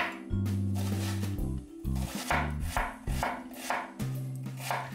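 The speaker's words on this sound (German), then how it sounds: "Eine große rote Zwiebel wird in Würfel geschnitten." A knife dices a large red onion on a cutting board in a steady series of crisp chopping taps, close up and clear, with faint background music underneath.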